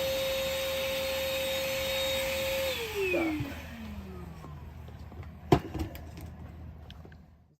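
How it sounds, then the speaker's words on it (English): Leaf blower or vacuum running over glued ballast on a garden railroad, a steady loud motor drone that winds down partway through, followed by scattered clicks and a sharp knock as it fades out. "So you can blow and vacuum everything except under the plants"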